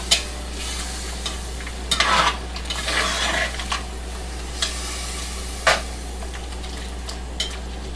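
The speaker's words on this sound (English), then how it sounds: "Stir this all in." Beef stroganoff sizzles gently in a pan while a spoon stirs it, with repeated scraping strokes and brief clinks against the pan, close and fairly quiet, no voices.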